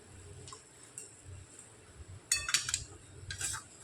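A spatula stirs and mixes a spiced potato filling with garam masala and chopped coriander in a pan, making quiet, sparse taps and scrapes with a short cluster of metallic clinks near the end.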